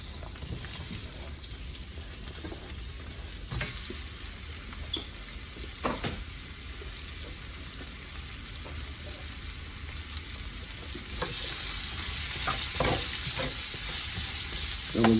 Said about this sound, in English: So in that goes the onion.